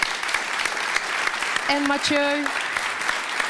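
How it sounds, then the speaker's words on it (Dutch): Applause for a speaker at a live podcast recording at a lecture by the Dutch defence minister, a steady crowd clapping from start to finish while a voice speaks briefly over it. "Groot applaus."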